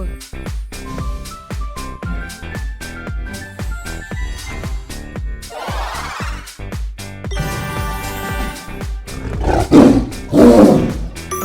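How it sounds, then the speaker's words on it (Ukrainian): A deep, powerful roar rises over a loud musical backing, with growling bursts near the end. "Це тигр."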